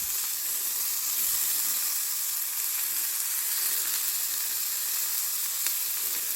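Cooked fajita vegetables sizzle steadily in a hot pan as they are reheated, giving a continuous close, crackling hiss with no talking.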